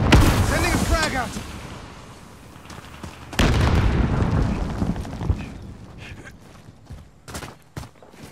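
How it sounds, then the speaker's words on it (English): A frag grenade blows up in Call of Duty: Modern Warfare with one sudden, loud, broadband boom midway that rolls off into rumble. Busy game noise and a voice run underneath, with a few sharp cracks near the end. "Sending a frag out."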